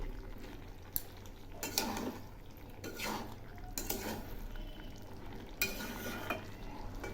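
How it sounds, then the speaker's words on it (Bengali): Bean and potato curry stirred in a pan, with a few scraping, clinking strokes of a utensil against the pan over a soft background sizzle, fairly close and without voices. "এখন একটু নেড়ে দিচ্ছি"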